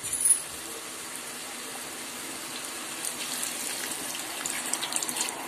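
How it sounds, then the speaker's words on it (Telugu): A glass of water pours steadily into an egg and potato curry in a pot with a soft, continuous gushing splash, fairly quiet and alone. "ఒక గ్లాస్ వాటర్ పోసుకుని దీనైతే బాగా ఉడకనిద్దాం"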